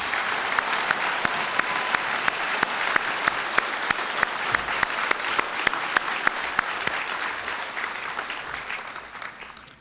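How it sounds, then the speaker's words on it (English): A large crowd at an Army basic training graduation claps steadily for the drill sergeants, a continuous dense wash of applause with sharp individual claps standing out, holding level before easing slightly at the end. "please join me in a round of applause to honor the tireless work of our drill sergeants"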